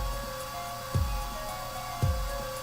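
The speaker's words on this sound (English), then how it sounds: "I just want to move this hairdryer so fast" A hair dryer drying plaster in the Apollo Justice video game, blowing as a steady close whir with two soft thumps partway through.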